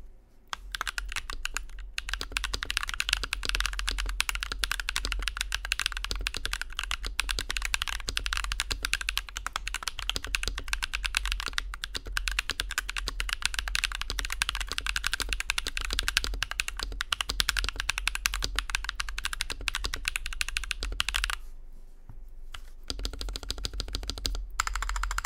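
Steady, close-up typing on a stock, pre-built Nuphy 65 mechanical keyboard. Dense, continuous keystroke clatter runs throughout, with a short pause about four-fifths of the way through before the typing resumes.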